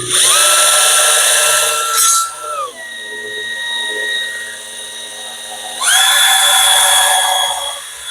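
A power drill whines loudly for about two seconds, drops in pitch and runs more quietly as it bites, then spins back up near the end while working into a wooden board on a model train table.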